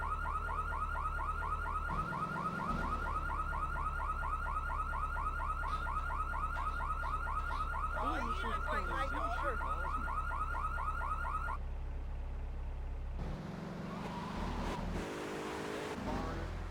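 A looping car alarm from a car in the video game GTA 3 Definitive Edition, its repeating electronic wail steady and loud for most of the stretch, then cutting off, with faint engine and street noise underneath.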